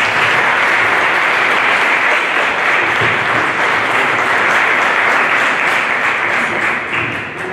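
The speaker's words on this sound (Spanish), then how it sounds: "Un aplauso, por favor." A lecture audience at a talk on women in the Mexican Revolution claps warmly and steadily, a dense, even wash of applause that holds strong before easing slightly at the end.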